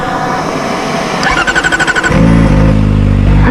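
Kawasaki ZX-4RR motorcycle engine cranking with a rapid stuttering starter, then catching and settling into a loud, close, steady high-pitched idle with a slight blip of revs at the end.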